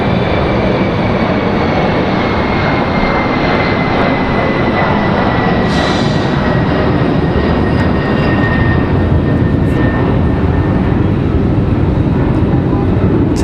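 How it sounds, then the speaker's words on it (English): An Embraer E175 regional jet operated as American Eagle departs Raleigh Durham International Airport, a steady loud roar of jet engine noise that fills the whole stretch with no talk over it. "E175 getting out of here."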